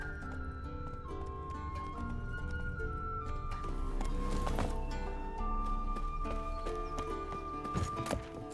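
A horse in The Witcher 3 trots with steady, rhythmic clip-clop hoofbeats and gives an occasional whinny, set against a faint musical score. The sound is fairly quiet and continuous, and no one speaks.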